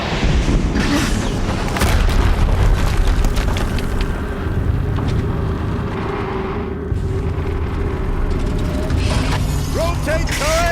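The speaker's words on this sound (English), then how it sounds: "Another explosion." Explosions rumble through a battle in Horizon Zero Dawn, with heavy low booms layered over busy mechanical clatter and game effects, loud and continuous throughout, with a spoken voice briefly under the din.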